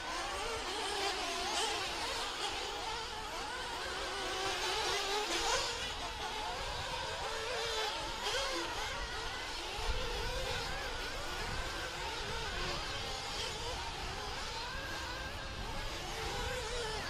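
RC buggies race around a ROAR track in a buggy heat, producing a steady, continuous high buzzing whine of small motors that swells and fades slightly as they circle, heard from some distance.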